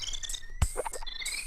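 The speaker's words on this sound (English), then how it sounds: "And then you've got like the chirping, like birds, there's crickets in there." Bright synthesized bird chirps and cricket-like trills from the Donkey Kong Country 2 video game soundtrack, repeating in short tweets over a steady high tone with a low thump midway.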